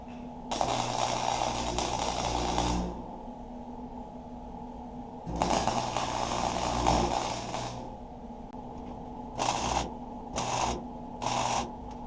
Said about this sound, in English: Alright, let's go around and weld this up some more.